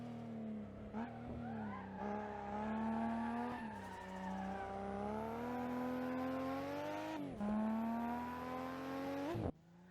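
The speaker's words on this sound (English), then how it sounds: "Then you steer into the corner and maintain a drift." A car drifts through a corner in the racing game Assetto Corsa: a loud, continuous engine drone with shifting pitch and screeching tire squeal, surging and dipping as the throttle changes, then cutting off abruptly just before the end.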